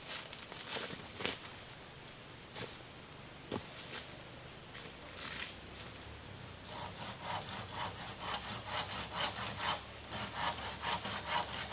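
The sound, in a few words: cutting a long piece of wood by hand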